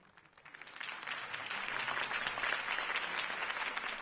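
A crowd breaks into applause that swells from scattered claps to a full, sustained ovation of many hands.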